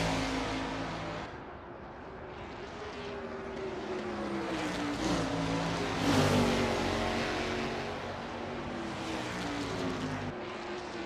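A 1989 Camaro Z28 IMSA GTO race car engine in a racing game at Road Atlanta drones loudly as it revs up and down through the gears, swelling to a peak and then easing off.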